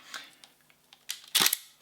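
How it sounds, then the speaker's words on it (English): A Hasselblad lens shutter firing at 1/15 second gives faint mechanical clicks, then a louder sharp snap near the end, heard close and alone. "you can hear the shutter sound just changing each time you move up through the shutter range"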